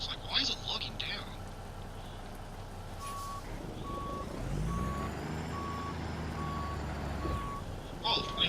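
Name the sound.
truck reversing beeps while backing up a trailer, American Truck Simulator video game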